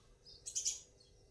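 A peacock calls outdoors, one short, faint, high cry heard from a distance over quiet background.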